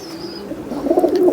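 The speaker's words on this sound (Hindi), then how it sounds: "ये सब कबूतर हैं" Pigeons recovering from paralysis coo softly at close range, a short low throaty burble that swells slightly toward the end, with no talking.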